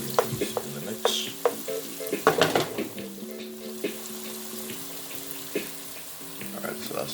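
Green peas go into sizzling turmeric jasmine rice in a single pot, with a burst of clattering and stirring over a steady hiss, then quieter scraping; a faint tonal hum runs beneath, and nobody speaks.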